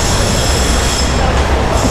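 A São Paulo Line 15 monorail train runs steadily with a continuous loud rolling rumble and high wheel squeal, heard up close from on board with no talk.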